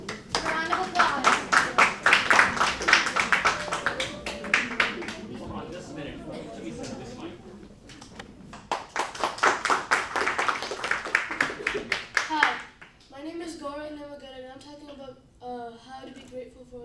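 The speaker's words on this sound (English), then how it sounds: "Round of applause." An audience at a persuasive speech competition claps for a speaker, two bursts of brisk hand clapping separated by a lull, followed by someone speaking alone.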